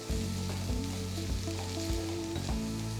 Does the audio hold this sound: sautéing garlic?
yes